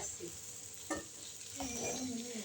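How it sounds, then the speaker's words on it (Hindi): Boiled noodles and vegetables for chicken chow mein are tossed in a pan with two spoons. A few soft clinks and scrapes sound over a faint, steady sizzle, close but quiet. "अगर 2 स्पून्स की मदद से इसको मिक्स किया जाए तो बहुत अच्छी सी मिक्स हो जाती हैं।"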